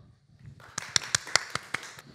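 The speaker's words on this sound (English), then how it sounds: "let's have a round of applause for Joakim Linna from Yahaha." At a conference session on stage, a small audience greets an arriving speaker with a few scattered handclaps, about six separate sharp claps following a quiet start.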